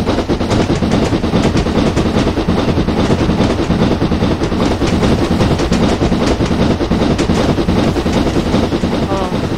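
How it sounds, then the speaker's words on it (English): A train in Train Simulator 2013 rolls past on the Bath Green Park to Wincanton route, loud and close, with a steady rumble and rhythmic clickety-clack of wheels that fills the whole stretch without letting up. "Oh, look at that, the train going past."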